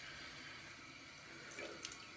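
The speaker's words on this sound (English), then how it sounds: "on the running water." Water runs steadily from a tap onto a sharpening stone setup, a low continuous splash and hiss with no voices, fairly quiet throughout.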